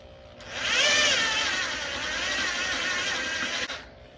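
A power drill bores holes into a metal tire rack for a Bronco, its steady high-pitched whine running loud and unbroken for about three seconds before cutting off.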